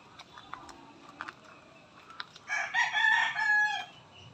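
A Rhode Island Red rooster crows once, loud and close, after a stretch of scattered clucks and small pecking sounds from the flock.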